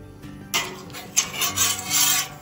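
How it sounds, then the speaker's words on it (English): A Blackstone spatula spreads canola oil across the surface of a Blackstone outdoor griddle. Short, close metal-on-metal scraping strokes rasp in quick succession. "Using my Blackstone spatula here now. Just spreading the oil over the surface of this Blackstone grill"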